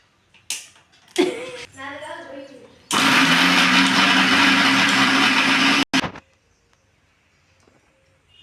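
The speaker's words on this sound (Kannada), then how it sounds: "ಇದನ್ನು ನಾನೀಗ ಮಿಕ್ಸಿ ಜಾರಿಗೆ ಹಾಕಿದ್ದೀನಿ" A kitchen mixer grinder whirs loudly while grinding roasted chutney ingredients, a steady roar lasting about three seconds that stops abruptly, with brief talk before it and a short pulse after.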